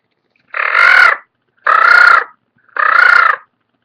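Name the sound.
crow call imitated on a diaphragm turkey call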